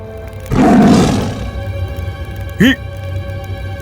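A loud, rough roar bursts out and fades over about a second, followed after a pause by a short, high, wavering cat-like cry over steady background hum.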